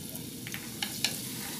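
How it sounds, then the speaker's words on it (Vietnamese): Garlic fries in hot oil in a pan, giving a steady close sizzle with a couple of short stirring scrapes near the end, and no voices. "Mình phi tỏi cho thơm ha."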